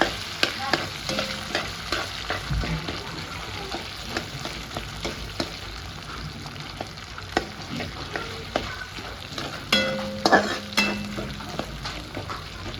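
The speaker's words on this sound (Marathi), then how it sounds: "हा बटाटा चांगला व्यवस्थित मिक्स करून घ्यायचा" Potato pieces stirred and mixed in a pan for sabudana khichdi: a low background sizzle broken by irregular scrapes, knocks and clinks of a spoon against the pan, close and moderately loud.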